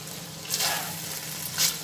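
Chicken kabsa with black pepper and kabsa spice mix sizzles steadily in a pan, close and fairly quiet, with two brief scraping stir strokes.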